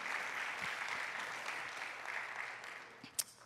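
Faint, distant applause from a church congregation praising Jesus Christ, a steady hiss of many hands with no clear individual claps and a small knock near the end.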